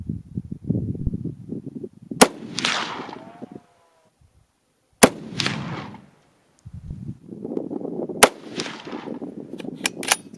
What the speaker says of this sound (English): We just did another 3-shot group